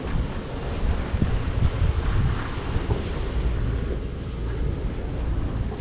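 Sailboat crossing the Mediterranean from Blanes to Majorca under engine power in light wind, a steady low rumble mixed with wind buffeting the microphone and sea wash, continuous and fairly loud with no voices.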